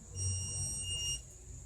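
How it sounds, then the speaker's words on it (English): A Trotter MAGWheel onewheel hoverboard sounds a steady, high electronic warning beep, one sustained tone held for about a second over a low background rumble, then cut off. "The board will beep if it's on its side, if it's not level."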